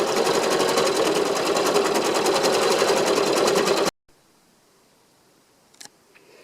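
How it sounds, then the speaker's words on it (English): Embroidery sewing machine stitching a stippling pattern on an in-the-hoop coaster, a rapid, steady mechanical needle chatter close by that stops abruptly partway, followed by near silence and a couple of faint clicks. "So I'm going to go ahead and do that stippling stitch."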